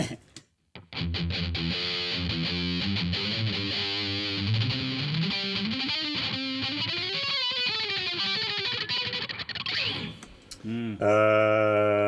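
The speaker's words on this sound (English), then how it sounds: "Okay, next, heavy distortion, which is metal zone." An electric guitar runs through the Line 6 DM-4 Distortion Modeler's Metal Zone heavy distortion model, producing a loud, saturated, heavily scooped tone of sustained chords and bending riffs that ends abruptly before a final ringing chord.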